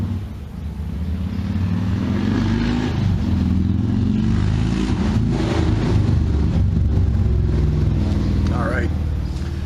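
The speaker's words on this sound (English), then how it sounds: "motorcycles are everywhere in New Hampshire, especially this time of year" A motorcycle engine rumbles past at close range in New Hampshire, loud and steady with a rising and falling drone over about ten seconds.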